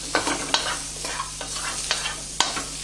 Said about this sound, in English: I'm just going to throw in the tofu and the chopped up scallions. I'm just going to keep moving that around.